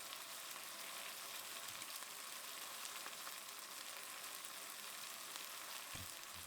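Spices fry in a pan while a chicken balti is being made, giving a continuous, even sizzle that stays close and fairly quiet, with faint stirring scrapes and no talk.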